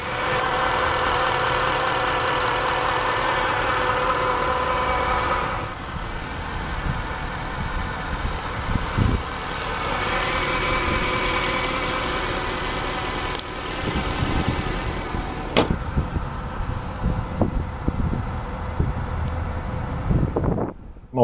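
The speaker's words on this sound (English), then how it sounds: "V8 engine that produces 480 horsepower" A 2013 Mercedes C63 AMG coupe with a 480-horsepower V8 idles with a steady low rumble, with wind noise buffeting the microphone and a few clicks and bumps nearby.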